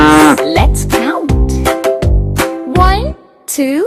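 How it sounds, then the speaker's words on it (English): A cow mooing three or four times in long, loud, wavering calls, close and alone, the last moo cut short after a brief gap. "It's a cow. Cow says"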